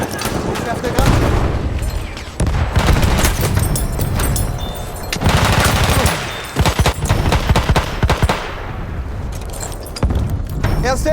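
In a Battlefield 1 Conquest match in the Argonne forest, a grenade blast and rapid bursts of gunfire repeat loudly throughout. Deep booms and crackling shots overlap densely, and voices cry out between them.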